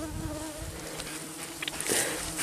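Midges and mosquitoes swarm in the Polar Urals tundra among dwarf willows and cottongrass, a close, continuous whining buzz with several insects passing near, heard alone without voices.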